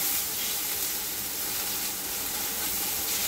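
A paste of ground green chili, ginger and garlic fries in a pan over a medium gas flame, giving a steady, even sizzle with a soft broadband hiss that stays level throughout, with no voices.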